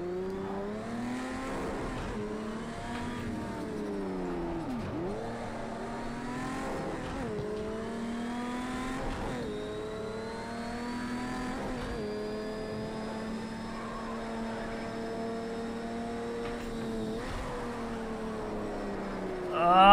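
A racing car in Project Cars 2 with an H-pattern manual gearbox, its engine droning steadily with repeated dips and climbs in pitch as gears shift, loud and continuous throughout.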